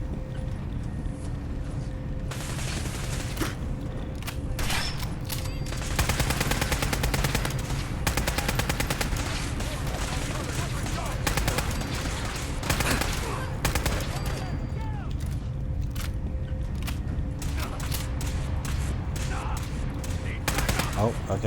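Sustained gunfire in the video game Fallout 4, dense rapid bursts of automatic fire and shots running almost without pause, loud and close, with voices over parts of it.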